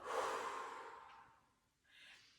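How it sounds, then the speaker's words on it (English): A single long breath blown out through the mouth, close and soft, fading away, followed by a brief quieter breath near the end. "Blow the breath out your mouth"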